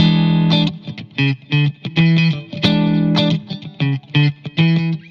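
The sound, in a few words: electric guitar natural sixth and flat seventh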